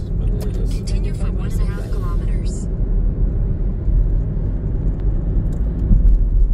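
A car drives along a road with a steady, close low rumble of engine and tyres throughout, while a voice talks briefly near the start.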